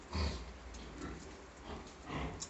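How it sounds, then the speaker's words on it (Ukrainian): Pigs in a small backyard barn, grunting and snorting in a few short bursts, close by and fairly quiet. "Кинули трохи свиней сюди"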